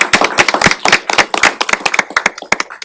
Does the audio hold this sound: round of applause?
yes